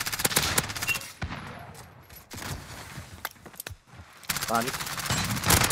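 Rapid bursts of gunfire from Modern Warfare Search and Destroy crackle in loud clusters, separated by a quieter stretch with a couple of isolated shots, while players talk over the action.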